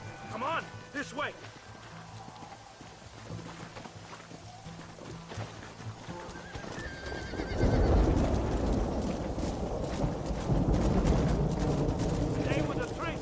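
Horse neighing and galloping with clip-clop hooves in the Western game Red Dead Redemption, whinnies early then a louder rush of hoofbeats and motion from midway, with game voices shouting over it.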